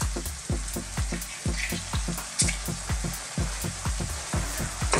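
Scallops pan-fry with lemon, ginger and cilantro, a bright steady sizzle punctuated by rapid rhythmic popping and tapping close by.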